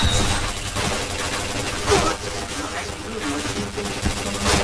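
Rapid gunfire bursts from the first-person shooter Point Blank crackle loudly and almost continuously, layered under a voice talking over the game.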